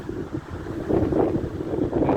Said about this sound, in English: It's definitely windy.